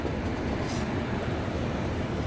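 A train rake shunting at Tilak Bridge railway station gives a continuous low rumble of rolling railcars, steady and fairly loud throughout, with no speech.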